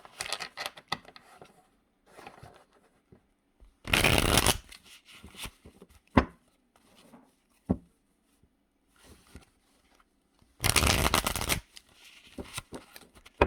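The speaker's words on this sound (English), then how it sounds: "You gotta let me shuffle a little bit here" Two quick bursts of tarot cards being riffle-shuffled, separated by several seconds of soft taps and small handling clicks, close and fairly quiet.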